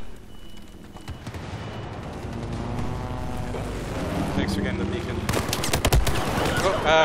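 Rapid bursts of LAV cannon fire in a Battlefield 4 close-quarters match, building to loud sharp cracks near the end, with a player talking over the shooting.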